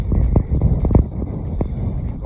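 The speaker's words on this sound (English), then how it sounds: "But it is windy." Gusts of wind buffet the microphone in low rumbling bursts, several strong thumps early then steadier blustering.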